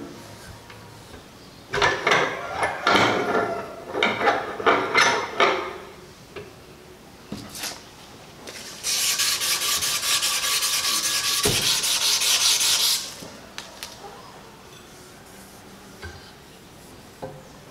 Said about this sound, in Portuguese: eu gosto de usar a lixa 1200 graus